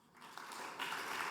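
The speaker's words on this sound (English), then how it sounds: "please give Michael a round of applause" An audience at a tech conference talk applauds a speaker, producing a steady wash of clapping that grows fuller and louder partway through, with no voices over it.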